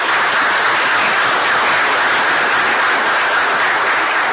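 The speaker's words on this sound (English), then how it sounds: "Can we please Have a round of applause." Sustained, dense audience applause fills the hall at the close of a business and society lecture, loud and steady from start to finish with no break.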